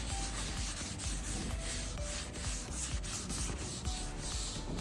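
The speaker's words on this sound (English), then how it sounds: "we're just gonna give her a quick rub down" Olive oil being rubbed by hand across a hot Blackstone griddle, a continuous dry scrubbing and wiping sound with rhythmic strokes, close and steady, with no one speaking.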